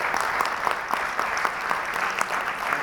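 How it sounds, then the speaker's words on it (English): An audience in a lecture hall breaks into steady, sustained clapping, a dense even patter of many hands at moderate distance with no voices standing out. "I think he deserves a big round of applause"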